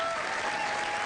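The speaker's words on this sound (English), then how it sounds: "The governor was greeted by a raucous crowd of supporters during his Orlando visit this weekend." A raucous crowd of supporters greets a state governor at an Orlando event with dense, steady applause that fills the whole short stretch at an even level.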